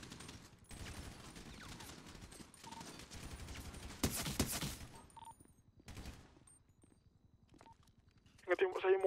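Gunfire in a police roleplay video game, heard as dense bursts of rapid shots with clip-clopping hoof-like steps, a sharp louder burst partway through and another at the end, with voices talking over much of it.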